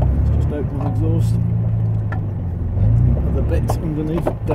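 A car's exhaust valve is opened at an enthusiasts' car meet, giving a loud, steady low engine rumble that swells briefly partway through, with someone talking over it.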